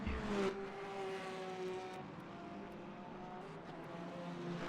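GT3 race car engines in the sim racing game Le Mans Ultimate, a steady droning roar with shifting harmonic whine as cars battle closely, continuous and loud throughout with a brief harsher burst at the start.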